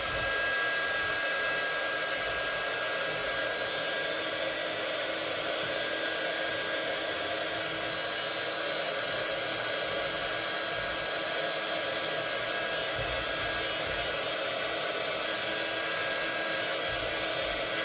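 A hair dryer runs steadily and loudly throughout, drying structure paste piped into little stars for a craft project, with a constant broadband whoosh and no pauses.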